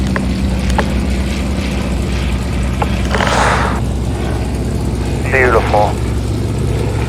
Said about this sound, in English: Oh, listen to that motor.